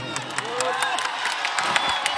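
A large crowd at a political election rally in Bihar, India, cheering, whooping and shouting continuously in a steady roar, with speech mixed into the noise.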